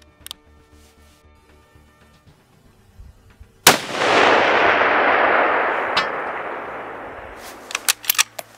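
One loud gunshot from a rifle firing a G9 .308 bullet cracks out suddenly and its roar trails off over several seconds, with faint clicks and handling sounds before and after.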